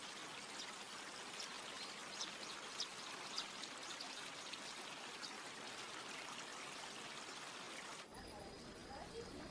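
Water from a carp tank in a Japanese satoyama village flows steadily back into a creek channel, a continuous trickling rush with small splashes, and a voice speaking over it.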